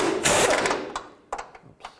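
A 21mm wrench tightens a nut and bolt on the oil pan of a 2000-2006 Chevy Tahoe, giving a loud close burst of ratcheting at the start and then a few sharp, separate metallic clicks.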